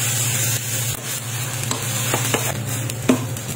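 Cooked rice stir-fried in oil with onion in a pan, a continuous sizzle broken by several spatula scrapes and taps, close up with no voices.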